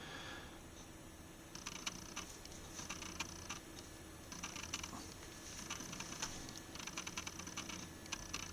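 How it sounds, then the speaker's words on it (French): Someone types quickly on the touchscreen keyboard of a Samsung Galaxy Tab, producing soft, irregular taps and clicks in short bursts over a quiet room hiss. "On peut taper comme un clavier d'ordinateur quasiment."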